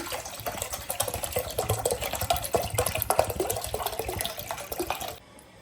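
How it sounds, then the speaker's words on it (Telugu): Water runs steadily into a bowl for about five seconds, a continuous close splashing stream that stops abruptly near the end. "వాటర్ అనేది యాడ్ చేసుకోవాలి."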